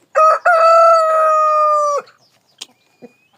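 A rooster crows loudly and close, one long drawn-out call, followed by a couple of short faint clucks in near silence.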